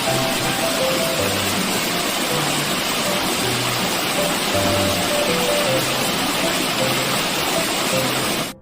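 Small Muu Falls on Unaksan mountain in Gapyeong, flowing in autumn: a steady, full rush of falling water that holds evenly from start to finish, close and fairly loud, with no voices over it.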